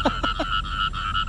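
Frogs croak in a repeating chorus of quick, throaty calls over a steady background chirr, close and fairly loud.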